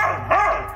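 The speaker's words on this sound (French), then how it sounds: "leur chien se met à aboyer à l'extérieur avec insistance" A dog outside on a garden estate in France barks insistently in the evening, with one sharp, close bark rising over a low background hum.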